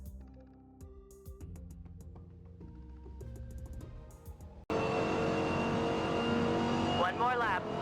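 A race car laps Suzuka in Forza Motorsport, its engine note entering abruptly halfway through as a loud, sustained drone with rising and falling pitch sweeps from gear changes, after a stretch of background music.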